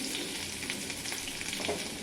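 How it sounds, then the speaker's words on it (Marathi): Garlic sizzling loudly in hot oil for a rice tempering, a dense, even hiss that fills the whole moment with small crackling pops on top. "तेलामध्ये तेल तापलेलं आहे चांगलं लसूण टाकला आहे"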